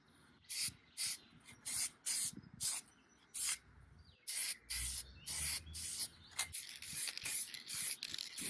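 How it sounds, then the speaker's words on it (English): Repeated short bursts of gold spray paint hiss, about a dozen quick sprays in an uneven rhythm, close and crisp with quiet gaps between. "I actually used lacquer toner and gold spray paint"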